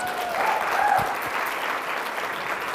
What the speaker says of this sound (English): another round of applause for Alex.